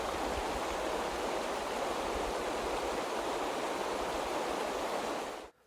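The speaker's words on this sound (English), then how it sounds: "you can absolutely hear the river not too far away" A river near Bitterroot National Forest in Montana rushes with a steady, even roar, heard alone from a short distance before cutting off abruptly.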